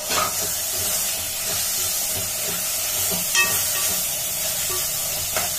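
Grated carrot frying in hot oil for biryani gives a steady, close sizzling hiss, with a few faint clinks and no talk.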